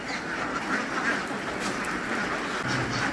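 Ducks quack steadily inside a large poultry house holding over three thousand birds, a dense, continuous chorus of overlapping calls filling the space without talk.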